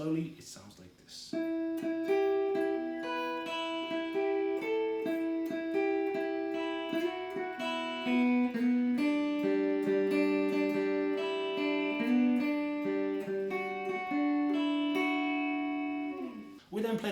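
A guitar plays the lead-in to a song slowly, single picked notes ringing one after another in a steady, clean melodic line, fairly quiet and heard alone.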